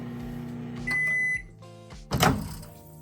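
A microwave oven heating slit green chillies and black cumin in oil, with a steady running hum, a sustained electronic beep, then a louder clunk like the door or turntable, close by with no voices.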